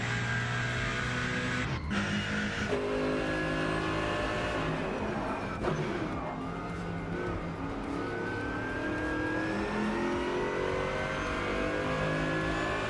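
Porsche race cars in 1990s DTM trim roar through the Rennsport racing game, engines revving hard and shifting across a continuous, loud stretch with overlapping cars passing and brief tire skids.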